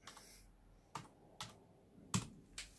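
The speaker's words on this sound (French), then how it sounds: "Je tape mon code" Someone types a code on a computer keyboard during Windows 10 startup. Five separate, crisp key presses land at uneven intervals in a quiet room, each a short, close click with nothing else around it.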